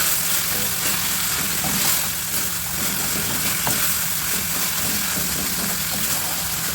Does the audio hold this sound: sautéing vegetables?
yes